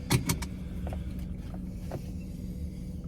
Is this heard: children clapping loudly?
no